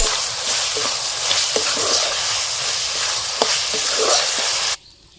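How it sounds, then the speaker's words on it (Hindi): Masala and tomatoes fry in a pan with a steady, loud sizzle, while a spoon scrapes and clacks in a few sharp strokes before the sound cuts off abruptly near the end. "टमाटर डालने के बाद चलिए चला देते हैं।"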